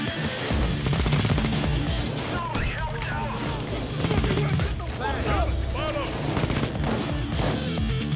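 Rapid gunfire rings out in the video game Payday 2 while snipers are shot at, repeated bursts layered over loud, busy game action that continues without a break.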